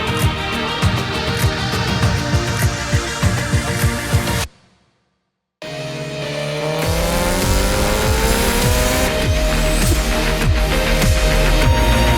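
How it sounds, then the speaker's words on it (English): A K-swapped Mazda RX7 sports car drives hard with loud, close engine revving and rising gear pulls, briefly cutting to silence before accelerating again with a sustained high-pitched engine howl. "it's time to take the car out for one more drive"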